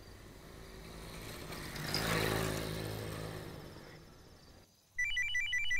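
After a passing vehicle engine rises and fades, a mobile phone ringtone cuts in abruptly and loudly, repeating its electronic pattern near the end while the call goes unanswered.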